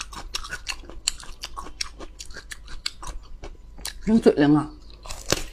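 Raw celtuce stem, the lettuce stalk, eaten fresh with dipping sauce, crunches in a quick run of crisp bites and steady chewing close to the mic, with a short spoken remark near the end.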